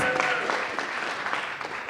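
A room full of people claps steadily, a dense wash of applause sustained throughout at moderate volume.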